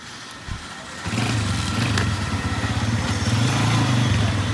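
A Honda CG125 motorcycle converted to a cafe racer idles with a steady low rumble, rising in strength after a moment and continuing as an even, throbbing run.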